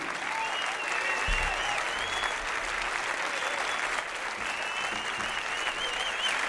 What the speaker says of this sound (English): That's right, clap your hands.